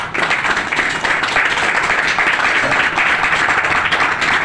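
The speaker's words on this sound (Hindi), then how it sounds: "एक बार जोरदार तालियां।" An audience at an RCM business seminar in Morena breaks into enthusiastic applause for a speaker, with loud, continuous clapping filling the room for several seconds and no voice on top.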